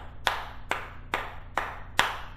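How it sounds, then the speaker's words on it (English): Five sharp hand claps ring out one at a time at an even, unhurried pace, close and clear, done to raise energy for protection magic. "Clapping."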